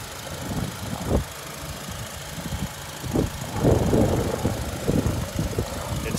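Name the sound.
2006 Honda Accord engine idling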